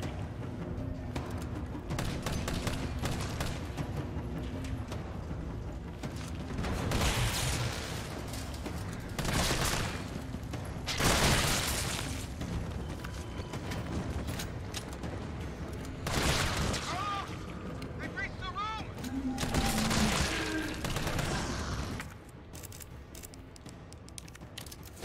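Grenade blasts in Resident Evil 3 Remake set off a string of loud booms and bursts with gunfire mixed in, several heavy impacts spaced across the stretch over a dense, constant game soundscape, with talk heard along the way.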